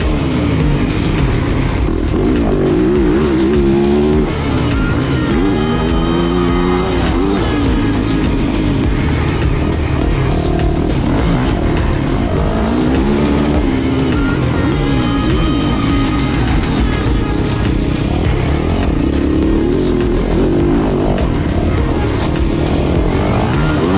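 A 2022 Fantic XEF 450 4T four-stroke motocross bike ridden hard on a technical offroad track with jumps, engine loud and close, repeatedly revving and surging through gear changes, with no talking.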